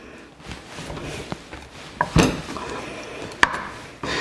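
A knife cuts slices from a block of Monterey Jack cheese on a board, giving a few separate soft thuds and taps with quiet gaps between them and no talking.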